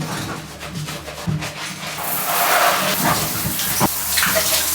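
Running water splashes and sprays steadily over a motorcycle tank bag being washed with dish soap, growing louder midway, with light rubbing and handling sounds close by.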